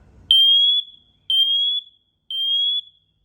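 A TREATLIFE combination smoke and carbon monoxide alarm sounds its smoke-test signal: three loud, piercing high beeps, each about half a second long and evenly spaced roughly a second apart, close to the microphone with nothing else heard.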